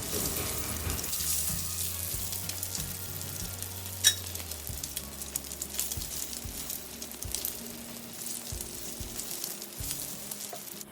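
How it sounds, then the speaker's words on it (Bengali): Eggs fry in olive oil in a pan, a steady crackling sizzle with occasional scraping of a utensil and running water in the background. "ডিম পোস্ট করে নিচ্ছি"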